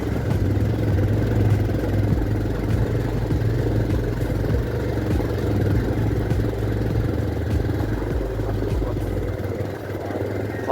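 Motorbike engine on a muddy road, a steady low rumble that continues throughout, with someone talking over it.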